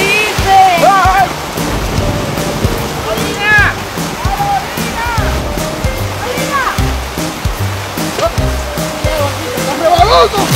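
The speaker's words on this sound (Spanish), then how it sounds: "Se arrancó a llover." Heavy rain pours down in a steady loud splashing roar throughout, with excited voices and shouts mixed in over the downpour.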